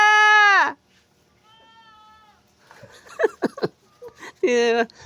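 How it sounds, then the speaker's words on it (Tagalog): A goat bleats loudly up close, a long wavering cry, then a softer second bleat, some rustling and thumps, and a final loud bleat. "may kambing na masunurin"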